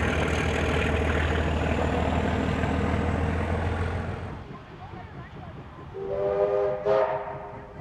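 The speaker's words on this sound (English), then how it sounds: "Donald now pulls into his destination, Buxton." A train rumbles and squeals as it slows pulling into Buxton station in New South Wales, the noise easing off before a voice speaks over the quieter scene.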